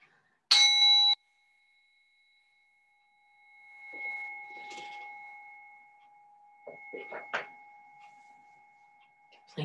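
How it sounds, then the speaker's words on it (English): A single bell struck to close a yoga session rings out clearly, then hums with a long, sustained fading tone under soft background rustling and movement. "you'll hear the sound of the bell to"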